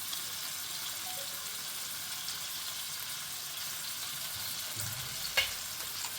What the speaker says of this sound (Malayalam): ഈ ഫുള്ള് ഗാർലിക്ക് ഞാൻ ഇടുവാണ്.